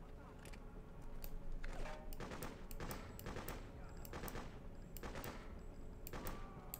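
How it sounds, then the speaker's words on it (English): Machine gun fire in Freedom Fighters, a steady series of sharp automatic bursts at moderate distance, repeating every half second or so over a low background rumble. "There's another machine gun."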